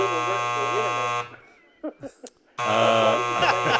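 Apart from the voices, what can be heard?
game show buzzer on a sports talk show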